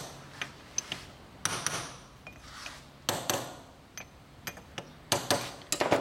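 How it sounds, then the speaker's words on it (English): A hammer tapping a turbo clamp into position during a CHRA install: sharp metallic taps in irregular bursts, some single and some in quick clusters, close and clear with no talk. "we have to use a hammer here, like this"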